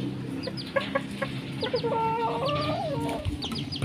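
A small Kate bantam chicken clucks in quick, short notes and then lets out a rising, warbling call, close and clear over a steady rustling outdoor background.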